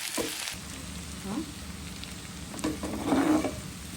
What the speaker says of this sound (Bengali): আর একটু ভাজা ভাজা হতে থাক